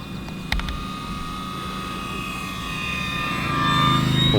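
An E-flite Commander mPd 1.4m brushless electric RC plane flies under a blue sky, its high steady motor whine holding several tones that slowly shift pitch and grow louder as it passes, with no talk.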